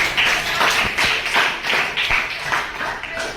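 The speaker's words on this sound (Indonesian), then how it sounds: "Oke, tepuk tangan dulu dong." Classroom applause, a small group of students clapping hands together in a steady, fairly close burst of rapid claps for a few seconds, with no talking over it.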